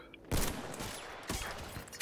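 Gunfire from the video game Battlefield 1: a sharp burst of shots opens the clip, a second volley follows about a second later and another crack closes it, each loud and close against a busy battle background.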